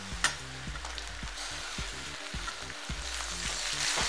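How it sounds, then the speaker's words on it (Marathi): Chopped tomatoes sizzle and fry with browned onion in a pan for a vegetable dish made with hadga flowers, a steady crackling hiss broken by a few sharp utensil clicks and scrapes. "कांदा भाजलेला आहे, आता टमाटर टाकूया याच्यात"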